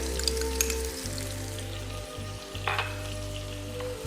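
Tomato puree sauce with turmeric and chili powder sizzles softly in a pan, a faint continuous crackle over a low steady hum, with no voices.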